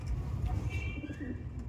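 Pigeons cooing in a loft, low throaty coos repeating close by, with faint chirps above.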